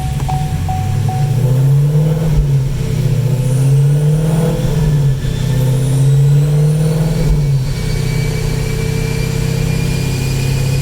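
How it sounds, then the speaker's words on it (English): Chevrolet SS 1LE engine running loud and steady on a dyno, its pitch rising and falling in repeated sweeps as it pulls up through the gears, with no talking. "So I'm gonna pull it up through the gears here and run it up to temp"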